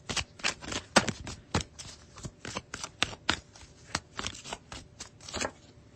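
Tarot cards being shuffled by hand up close, a quick, irregular run of papery flicks and soft slaps with no talking.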